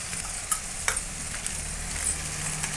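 Chilli powder, coriander powder, garam masala and turmeric sauté in a pan for mushroom gravy, a steady soft sizzle broken by a few light stirring scrapes and taps of a utensil.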